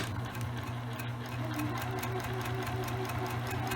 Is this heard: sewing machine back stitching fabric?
yes